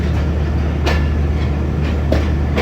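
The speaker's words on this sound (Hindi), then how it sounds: "गुरमानी रेलवे स्टेशन से डिपार्ट कर रही है 128 डाउन मेहर एक्सप्रेस" The 128 Down Mehar Express departing Gurmani railway station in Pakistan: a loud, steady rolling rumble with a few periodic clacks of wheels over rail joints, and no voices.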